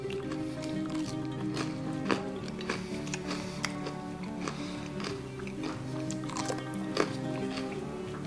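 Close, crisp crunching and cracking as brittle sesame seed chikki is bitten and chewed, steady and repeated against a low background hum.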